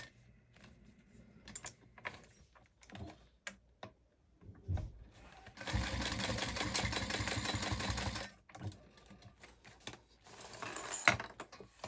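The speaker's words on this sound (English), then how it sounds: "we're going to sew all the way around" A sewing machine stitches around a vinyl crossbody bag in bursts: short starts and stops early on, then a long steady run of rapid stitching, a pause, and another run, with no talk.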